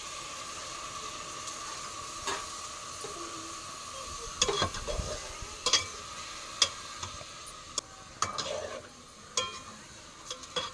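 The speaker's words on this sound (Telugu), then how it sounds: "ఇందులోకి చికెన్ కూడా వేసేసుకుంటున్నాను." Chicken fries in oil with tomatoes and coriander, giving a soft, continuous sizzle broken by scattered clicks and knocks of stirring utensils, with no talking.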